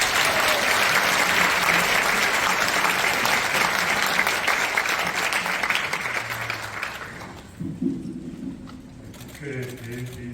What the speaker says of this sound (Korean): 목사님 나오실 때 힘찬 박수 드립니다